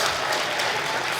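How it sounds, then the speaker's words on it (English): Dense audience applause for six new lightning talk speakers at a Python conference evening session, steady broadband clapping filling the whole moment without any voices. "Can we give them a massive round of applause"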